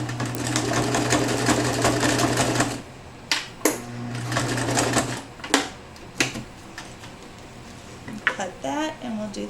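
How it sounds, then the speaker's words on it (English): A sewing machine stitches across a denim purse strap in quick, loud whirring bursts separated by brief pauses, with a few clicks and a voice speaking near the end. "And just sew straight across again."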